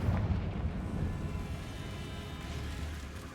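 A Confringo blasting spell explodes in Hogwarts Legacy, a deep booming burst at the start that rumbles and crackles, then fades into a low lingering roar over a few seconds, with no talking.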